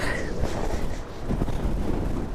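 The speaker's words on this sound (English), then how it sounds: "as soon as you get back out in it, you think, it's still windy" Wind blows steadily outdoors on the Morecambe seafront, a continuous rumbling buffet against the microphone with low gusting swells and no voices.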